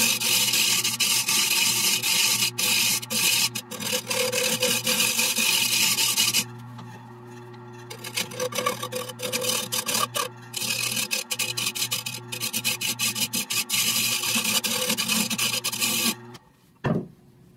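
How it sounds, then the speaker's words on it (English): A chisel cuts into the inside of a wooden bowl made from a flat board of three glued woods, giving close, continuous rasping scrapes in repeated strokes, with a brief pause midway and a sudden stop near the end. "So now we've cut it a little bit more with this chisel"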